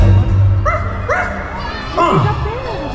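A cartoon ghost dog barks and yips a few times during a Disney Halloween fireworks show at a theme park, short bright calls rising over a crowd and amplified narration, with a voice speaking before them.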